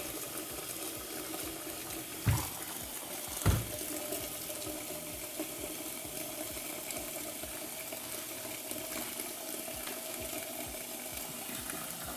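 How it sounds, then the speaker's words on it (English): Water runs steadily and fairly quietly into a cooking pot of October beans, a continuous soft rush with two brief clunks near the start. "we're gonna put the water in there so we can boil the beans"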